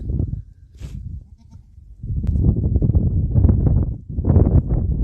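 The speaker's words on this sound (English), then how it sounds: "Hit me up for your baby goats." Baby goats bleat loudly and repeatedly close by on a farm, overlapping wavering cries with a brief quiet gap between calls.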